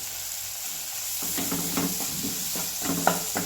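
Masala and vegetables sizzle and fry in a pan, with scraping, stirring strokes joining in after the first second and recurring in irregular bursts over a steady hiss.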